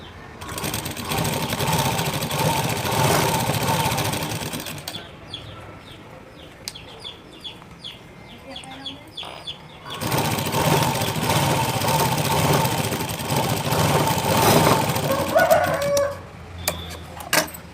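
A sewing machine stitches a blouse in a steady, continuous run, stops for a few seconds, then starts again. A rooster crows and hens cluck in the background.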